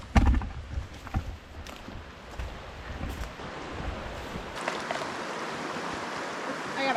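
Water from a backcountry river in Idaho runs steadily while dishes are rinsed at the bank, a broadband rushing wash with a few knocks and splashes near the start and a brighter, louder flow toward the end.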